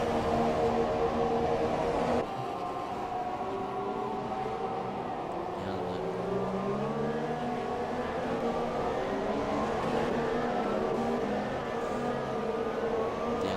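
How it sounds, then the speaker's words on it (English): Formula One race cars in the F1 2017 video game race down the front straight at the Bahrain Grand Prix, with a continuous engine whine shifting in pitch as cars pass. An announcer talks over the engines. "Lovely shots of the cars down the front straight."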